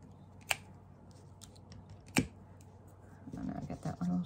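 Scissors snip paper ribbon tails for a candy cane holder craft, giving two sharp, isolated cuts with a quieter rustle and soft handling sounds at the end.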